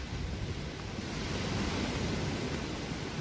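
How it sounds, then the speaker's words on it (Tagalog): A continuous, even roar of strong ocean surf washes on without pause, broad and steady like waves breaking at a distance, at a beach resort in Equatorial Guinea. "Lakas ang alon ngayon sarap mag-swimming."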